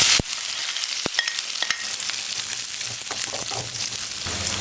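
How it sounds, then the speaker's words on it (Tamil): Sliced onion frying in oil with mustard seeds and garlic for a pumpkin and broad bean poriyal gives a loud, steady sizzle, punctuated by a few sharp clicks of a spoon stirring the pan, close up with no speech. "வெங்காயம் போட்டுக்கோங்க."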